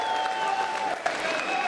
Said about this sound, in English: can we please have a massive round of applause for both of our